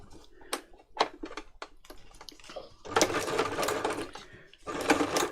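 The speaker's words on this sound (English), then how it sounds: "So I need to select a zigzag stitch on my machine, but again, it's due to how fast I feed it through is how close together those zigzags are going to be." A domestic sewing machine runs a zigzag stitch for free-motion embroidery on a junk journal cover, stitching in short bursts at first, then in two longer steady runs. It sounds close and fairly loud, with no talking.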